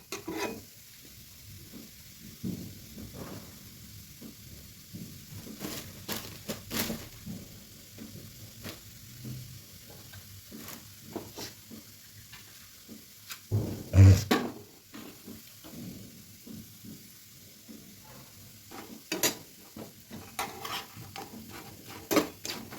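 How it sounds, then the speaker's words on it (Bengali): Besan-coated bread slices fry in shallow oil in a pan and are turned repeatedly, giving a quiet, crackling sizzle broken by irregular clinks and scrapes of a spatula against the pan. "সব দিকে নেড়ে চেড়ে একদম লাল লাল করে মুচমুচে করে নিতে হবে"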